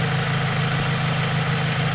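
A BMW Z3 engine idles in a steady low rumble, continuous and close, with no talk over it.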